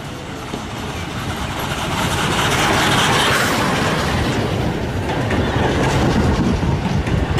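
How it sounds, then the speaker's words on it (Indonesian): A Thomas toy train runs steadily with a continuous rolling, rattling rumble that swells slightly midway and stays fairly loud throughout, with no talking. "Wah, kereta Thomas."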